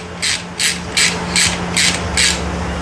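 A hand ratchet clicks in six even bursts, snugging the clutch basket bolts on a Kawasaki Vulcan 900 during a clutch replacement, close up over a steady background hum.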